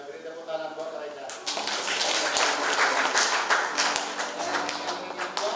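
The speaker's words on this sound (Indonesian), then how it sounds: "beri tepuk tangan buat mereka" Wedding guests applaud the couple; after a voice at the start, a dense burst of clapping breaks out and carries on steadily, with talk mixed underneath.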